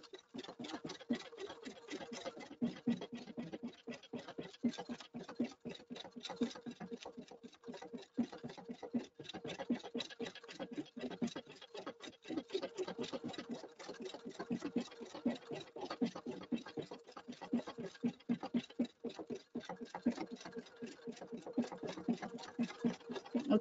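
A Pfaff sewing machine runs steadily as it stitches out a pattern, giving a fast, even patter of needle strokes. The stitching continues throughout at low volume with brief pauses in the rhythm.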